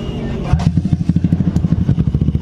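A 2019 Honda Beat scooter's electric starter engages, and the engine catches into a rapid, steady, close-up pulsing idle, with faint voices in the background.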